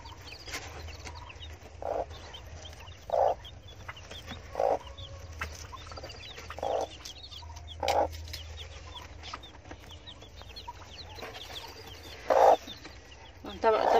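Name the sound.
Fayoumi hen clucking with newly hatched chicks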